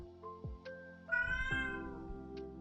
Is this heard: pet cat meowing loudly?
yes